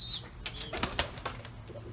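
A young Criollo Quinterón pouter pigeon flaps its wings in a burst of quick, close claps as it is released by hand, with faint cooing around it and no talk.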